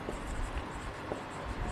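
Chalk or marker writing on a classroom board during an electric field lesson, faint scratchy strokes in short irregular bursts, with no talk.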